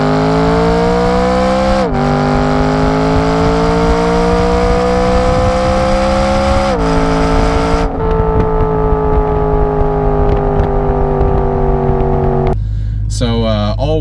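A 2011 BMW M3 Coupe E92 engine revs hard on the move, its pitch climbing through the gears with sharp drops at each shift, loud and close, ending in an abrupt lift-off with a voice briefly heard.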